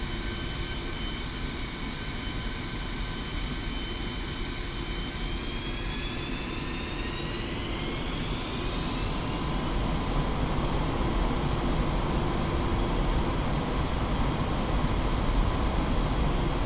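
Twin jet engines of a Su-25T Frogfoot spool up to full takeoff thrust in the DCS flight simulator, a loud continuous roar with a rising whine sweeping upward midway, steady and unbroken with no talk.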